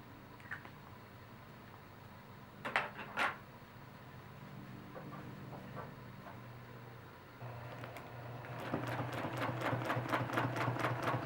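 Domestic sewing machine quilting a half feather motif, heard as bursts of rapid mechanical stitching: short runs early, then a longer steady rattling run at the end, with faint handling clicks between, fairly quiet.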